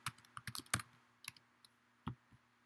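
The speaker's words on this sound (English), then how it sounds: "I typed school calendar." Close, quiet keystrokes on a computer keyboard: a quick run of taps followed by a few scattered presses after a pause.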